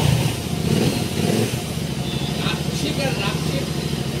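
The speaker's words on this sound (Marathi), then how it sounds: "कोल्ड स्टार्ट मारा जरा एक." A parallel-twin motorcycle engine idles after a cold start on a morning ride, a steady close, loud mid-pitched rumble with a slight rise early on, running continuously throughout.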